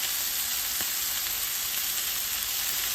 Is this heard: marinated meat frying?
yes